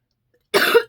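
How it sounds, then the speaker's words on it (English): A single short, harsh cough bursts out close by after silence, followed by the start of another, with no talk. "Oh no, we're gonna start the coughing."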